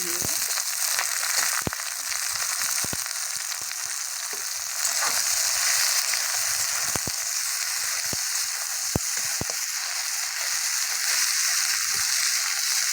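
Taro stolons frying with fried garlic in hot oil give a steady, dense sizzle throughout, close and fairly loud, with occasional clicks of stirring and no talk.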